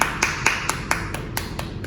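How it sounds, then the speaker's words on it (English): Young children in a virtual martial arts class clapping for a classmate, a thin, evenly spaced run of about nine sharp claps heard through a computer call, fairly close with little room sound. "Let's everybody clap for Aaron."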